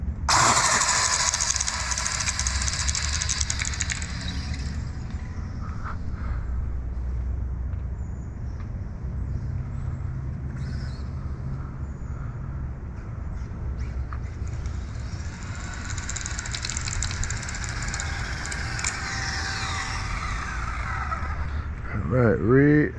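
A Kyosho Inferno GT-1 RC car with foam tyres makes a speed run. A high, whining motor rush opens and closes the sequence, with quieter rumbling in between.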